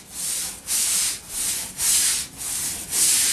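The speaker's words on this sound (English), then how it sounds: "Just using a hard bristle brush." A hard bristle brush scrubs a wooden deck with the grain in six rhythmic back-and-forth strokes, each a rough, close, fairly loud scratching rasp separated by brief pauses.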